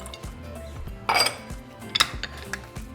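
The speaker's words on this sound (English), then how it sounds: "So I'm just going to mix the olive oil, apple cider vinegar." Olive oil and apple cider vinegar being stirred together for a dressing in a bowl, with light clinks and scrapes of a utensil against the dish, close and fairly quiet, with two sharper clinks.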